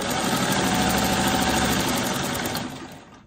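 A sewing machine runs at a steady, fast pace stitching the corners of a quilt block, its close, continuous whir ending as it slows to a stop.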